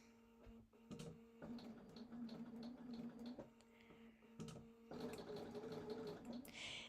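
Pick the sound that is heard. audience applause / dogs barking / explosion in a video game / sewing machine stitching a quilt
sewing machine stitching a quilt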